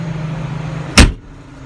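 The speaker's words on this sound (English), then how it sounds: "just going to shut this door" A single solid thud as the cab door of a Prinoth Panther tracked carrier is pulled shut, close and loud, over a steady low engine idle hum that drops quieter once the door closes.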